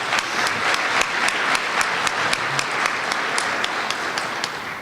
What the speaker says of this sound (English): You should applaud yourselves for that.